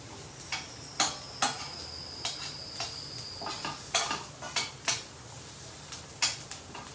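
Chopped garlic and onion sauté in oil in a pan while a spoon scrapes and taps the pan, giving repeated clinks over a soft sizzle at moderate, close volume.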